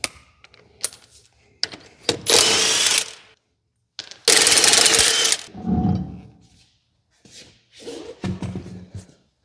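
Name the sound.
vehicle lift raising a bagged Ford F150 truck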